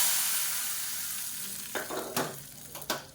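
Hot-oil tempering of karuvadagam, curry leaves and dried chillies for cabbage sambar, a steady close sizzle with several sharp crackling bursts as the seasoning spits and is stirred.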